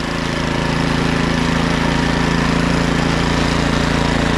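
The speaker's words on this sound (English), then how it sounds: "Starting to bog down this engine pretty good as I'm going" A Troy-Bilt or Cub Cadet (MTD) snowblower engine labours and bogs down under load, a loud, continuous droning rumble with no pauses or voices.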